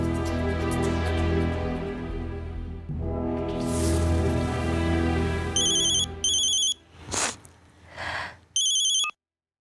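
Phone ringing unanswered, with several bursts of a repeating electronic ringtone in a pulsing pattern following a stretch of tonal background music.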